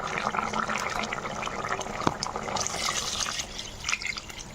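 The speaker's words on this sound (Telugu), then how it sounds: "ఇప్పుడు వాటర్ పోసుకోవాలండి మనం. నేనైతే ఒక 30 లీటర్ పోసుకుంటున్నాను." Water is poured into a large pot holding softened vegetables for sambar rice, a close splashing, gurgling fill with scattered drips.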